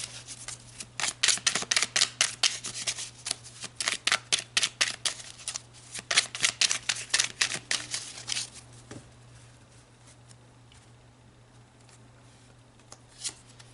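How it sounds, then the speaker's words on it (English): Tarot cards shuffled close by in rapid, rhythmic riffles and flicks for several seconds, fading to quiet rustling near the end over a faint steady hum. "let's pull some more cards."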